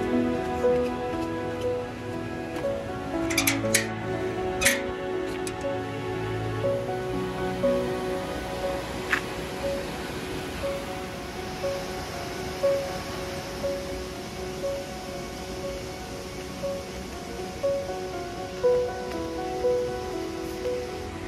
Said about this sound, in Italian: sembra tipo una cascata